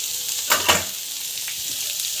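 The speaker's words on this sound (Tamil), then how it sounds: "ஆயில் நல்லா காஞ்சி பிறகு வெங்காயம் வந்து போட்டுக்கலாம்." Onions sauté in hot oil in a pan with a steady, bright sizzle and a couple of brief louder bursts near the start, heard close and alone without talk.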